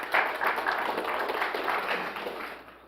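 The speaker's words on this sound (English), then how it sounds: "should give a clap for Nigel" Audience applause in a conference hall during a Mac admins talk, a dense, steady patter of many hands clapping for about three seconds, fading slightly toward the end.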